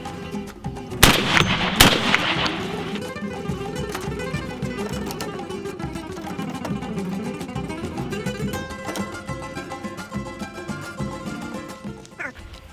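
A 12-gauge shotgun fires a reloaded Remington American hull on its thirteenth shot, giving two sharp, loud blasts close together near the start, followed by a long stretch of ringing, clattering outdoor background.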